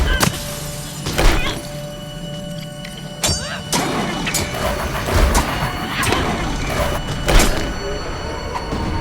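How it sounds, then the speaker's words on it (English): Crystals smashed in a video game cave scene, several sharp shattering cracks and crashes spaced across a rumbling background of crumbling rock and ambience, with a voice talking over parts of it. "Smashing the crystal destroys the sound"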